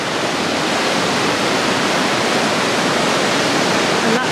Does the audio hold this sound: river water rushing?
yes